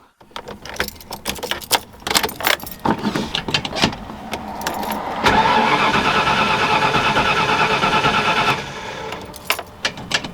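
Ford Galaxie engine being cranked, repeated sharp starter bursts, then a sustained churning crank that fails to catch and trails off, loud and close.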